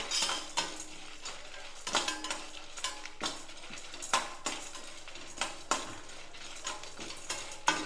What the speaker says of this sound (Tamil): லாஸ்ட்டாக பூண்டு போட்டுக்கலாம், வறுபடட்டும்.